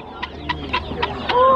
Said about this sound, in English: They're all baby chickens.